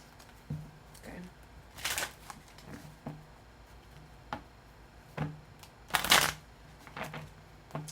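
Tarot cards shuffled by hand in several separate bursts, each a quick crisp riffle of paper, with soft taps and handling sounds in the quiet between.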